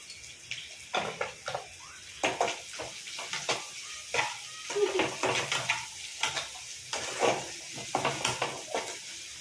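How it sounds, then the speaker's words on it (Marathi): Chopped onion, salted and sprinkled with a pinch of sugar, sautés for upma in a pan, with a soft sizzle under repeated stirring scrapes and clatters at close range. "कांदा मी परतत आहे."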